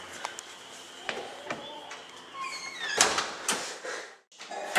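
A door opening indoors, with clattering thuds and shifting noises building into a louder knock-like burst near the end.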